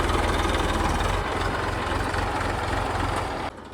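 A tractor engine idles on a muddy farm where wood is being hauled, a loud, close, low throbbing chug with a steady pulse that drops off sharply near the end.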